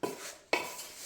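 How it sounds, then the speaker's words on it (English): Chicken pieces being mixed with flour in a bowl, two quick clinks of a utensil against the dish, each trailing into soft scraping and stirring, close and fairly quiet with no voices. "I'm mixing that through now to coat everything"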